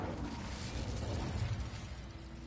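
The Incendio fire spell cast in Hogwarts Legacy, a dense, roaring whoosh of flame that swells and then fades over a couple of seconds.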